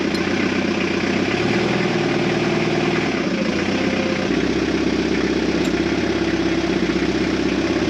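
An F-4 Phantom jet engine is being started on the ground after an incomplete-combustion attempt, a loud continuous roaring drone with shifting low tones and ground equipment noise, no talking.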